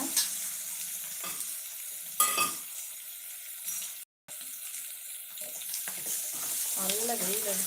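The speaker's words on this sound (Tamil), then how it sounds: "உப்பு போடுவோம் வெங்காயம் நல்லா வதங்க" Onions frying with salt in a pan for biryani, a crackling sizzle with occasional stirring scrapes and a brief cutout, close and steady, ending with a faint voice.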